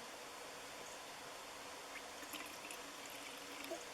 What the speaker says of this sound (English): all you do is pour it in there